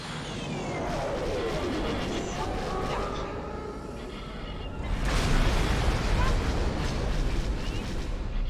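Weapons fire from a T-65B X-Wing in the space combat game X4: Star Wars: a continuous loud roar of blasts and engine rumble, swelling louder partway through, with a voice talking over it.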